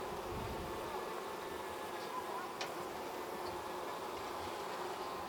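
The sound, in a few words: honeybees buzzing at the hive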